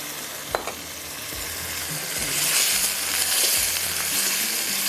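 Mutton stock poured into a pan of frying masala for biryani, bringing a steady, loud sizzle that swells and hisses continuously, with a few brief clinks near the start.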